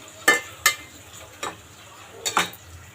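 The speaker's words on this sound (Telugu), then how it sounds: "ఈ పేస్ట్ అనేది పచ్చివాసన పోయేంత వరకు వేపుకుందాం" Mint paste and vegetables being fried in a pan, heard as four sharp scraping stir strokes spaced irregularly over a faint background hiss, with no talking.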